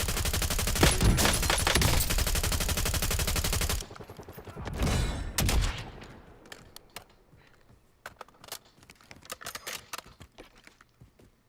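Loud, sustained rapid gunfire in Call of Duty Warzone, close and dense for several seconds, then scattered shots and clicks fading into quieter sporadic fire.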